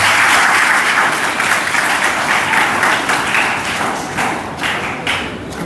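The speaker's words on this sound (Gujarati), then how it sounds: "દીપ પ્રાગટ્યને આપણે જોરદાર તાળીઓથી વધાવીએ" An audience breaks into loud, dense applause after a ceremonial lamp lighting at a community program, the clapping sustained and slowly thinning toward the end.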